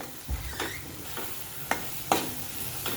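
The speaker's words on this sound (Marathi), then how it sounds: "ही जी पेस्ट आहे ही खमंग खरपूस वास सुटेपर्यंत आपल्याला परतून घ्यायची" Ginger, coriander and garlic-coconut paste sizzle softly in a pan for Satara-style pavta rice, with a low frying hiss broken by a few distinct spatula scrapes and taps as it is stirred.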